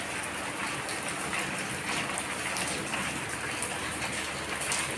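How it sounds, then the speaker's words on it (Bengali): Rain falling steadily outdoors, a dense even patter of drops on surfaces lasting the whole stretch, moderately soft, with no voices. "এই যে আবার বৃষ্টি পড়তে লেগেছে।"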